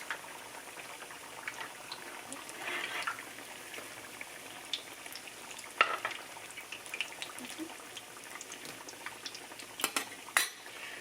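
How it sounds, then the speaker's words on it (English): Soft sizzling of chorizo, cheese and potato empanadas frying in a pan, with occasional clinks of utensils and a few sharp taps, steady and close. "frying them up"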